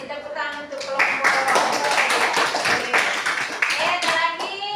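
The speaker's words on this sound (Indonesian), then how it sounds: "Tepuk tangan untuk kelompok." Students in a classroom clap for a group that has just presented, a brisk round of handclaps mixed with voices, rising after a moment of talk and fading near the end.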